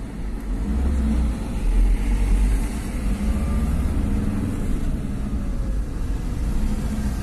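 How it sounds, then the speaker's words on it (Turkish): Volkswagen Transporter T4 with a 2.5 TDI diesel engine, suffering a pulling-power problem, idling and briefly revving with a steady low rumble, close and continuous throughout. "Tamam, yani motor sesini dinletelim onun için."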